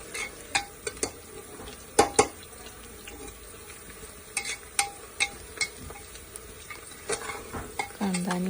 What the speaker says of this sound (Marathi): मिरच्या कांदा सगळं मिक्स करून चांगलं भाजायचं म्हणजे मिरच्याही भाजल्या जातात।